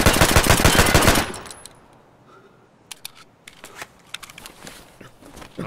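A loud, rapid burst of machine gun fire in Escape from Tarkov rattles for about a second during recoil practice, followed by scattered quieter clicks and faint shots.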